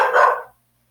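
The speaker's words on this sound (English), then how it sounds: "my dogs are going crazy" A single loud dog bark sounds close by, a short burst lasting about half a second before cutting to silence.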